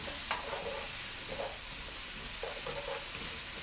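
Onion and mushrooms frying over low heat in a pan, a soft steady sizzle with a few faint stirring scrapes, quiet and close, no voices.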